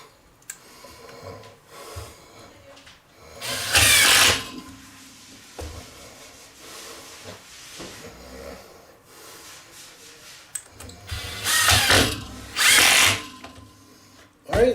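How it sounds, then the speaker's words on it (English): A power drill drives screws through mending plates to fix a bracket onto a large upholstered chair, with several loud whirring bursts of a few seconds each, separated by quieter handling noises and breathing. "And use those to screw this bracket on there."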